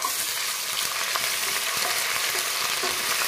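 Onions with ginger, garlic and turmeric paste fry in a pan with a loud, continuous sizzling hiss and faint stirring scrapes underneath.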